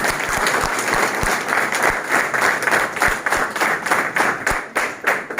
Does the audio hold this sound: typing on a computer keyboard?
no